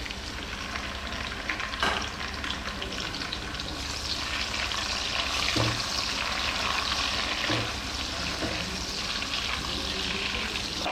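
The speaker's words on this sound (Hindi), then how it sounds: "यहाँ मेरे पास एक छोटा टमाटर कटा हुआ है और 2 सब्ज़ मिर्चें ये डाल देंगे।" Chopped tomato and green chillies sizzle steadily in a pan with browned onion, close and continuous, with occasional stirring clatter.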